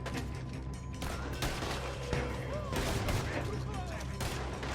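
A dense Red Dead Redemption 2 gunfight crackles with overlapping rifle and pistol shots and a few ringing mechanical clicks, a busy, continuous exchange of fire with brief voices mixed in.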